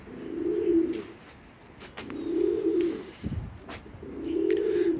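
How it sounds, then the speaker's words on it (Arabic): Pigeons give three slow, rounded coos at a steady pace, close by and fairly soft, with small rustles in between. "هاي الحمام."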